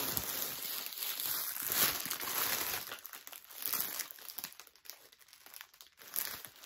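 Gift wrapping paper crinkles and rustles as a parcel is unwrapped indoors, with close, continuous crumpling and a few louder tearing rustles.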